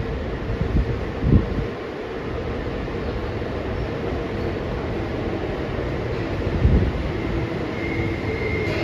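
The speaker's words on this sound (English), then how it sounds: "A Nine Service train is arriving at track 1." A Tobu 9000 series out-of-service train rumbles steadily alongside a station platform as it arrives, with a continuous low roar and a couple of brief clunks, loud and close.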